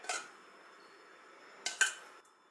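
A spoon clinks against a dish a few times while spooning a mixture onto Turkish flatbreads, quiet taps at the start and a couple of sharper clinks near the end, in a quiet room.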